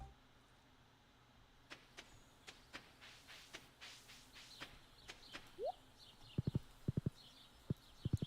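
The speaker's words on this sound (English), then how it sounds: "Listen to my tractor. It sounds like a horse." A tractor in the farming game Stardew Valley makes horse-like hoofbeats, a run of clip-clop steps followed by a quicker cluster of crisp hoof clicks, faint and heard on its own.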